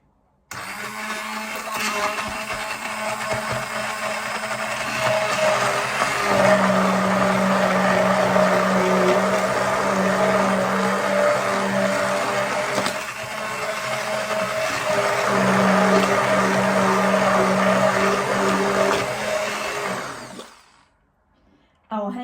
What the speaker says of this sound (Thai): ใช้เครื่องปั่นพริกแกงส้มค่ะ